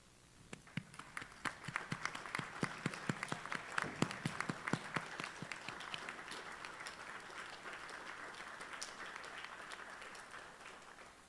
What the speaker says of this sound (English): let's hear a round of applause for your family and your supporters.